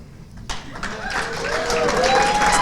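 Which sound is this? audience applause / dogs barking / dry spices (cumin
audience applause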